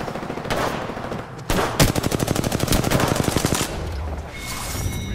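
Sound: enemy gunfire from a video game

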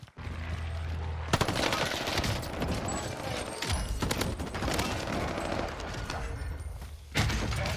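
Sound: Bren machine gun firing in video game Warzone

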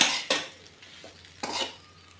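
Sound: stirring roasted sago with crushed peanuts in a pan

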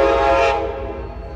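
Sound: Amtrak Capitol Corridor train 737 arriving at station

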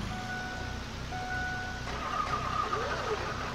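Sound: truck engine starting in video game Farming Simulator 19

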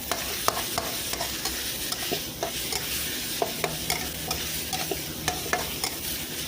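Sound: stir-frying minced pork in a pan

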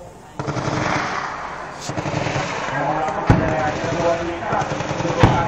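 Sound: gunfire during a military exercise

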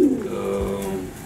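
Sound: racing pigeon cooing in the loft

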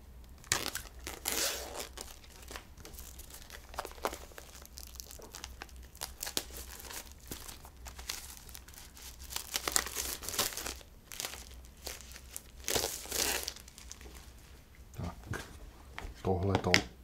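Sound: unwrapping plastic-wrapped board game components (Bios: Origins)

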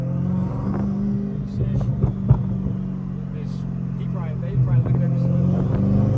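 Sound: C8 Corvette car engine revving

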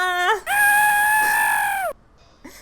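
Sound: chicken clucking and crowing in a Half Sphere video game

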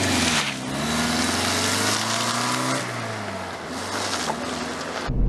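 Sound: Toyota Previa van driving

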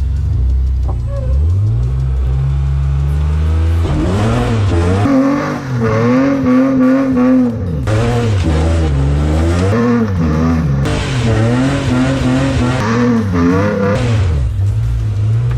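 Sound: rally car burnout, engine revving and tire squeal

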